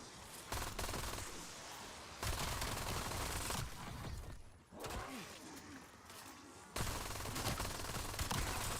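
Automatic gunfire in the Black Ops 7 Zombies video game, with sustained loud bursts of rapid shots broken by brief pauses, close and dominant with no talk over it.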